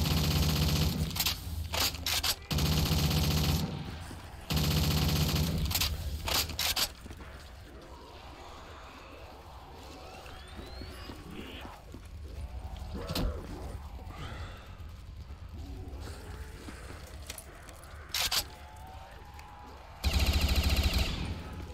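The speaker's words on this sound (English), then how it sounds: "Got an AK-47." An AK-47 fires in a zombie mode of a video game, with loud bursts of automatic gunfire opening and closing the passage. Quieter game sounds and a voice fill the stretch in between.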